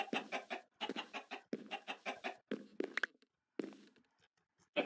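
Chickens in the game Minecraft cluck in a steady run of short, close, clipped calls, with brief pauses between bursts and no talk.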